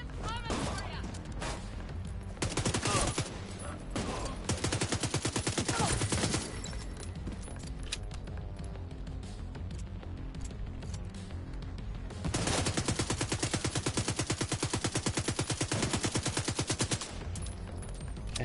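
Rapid submachine-gun bursts in a multiplayer shooter, loud and sustained in long stretches with short pauses, fired at range, with a voice talking over parts of it.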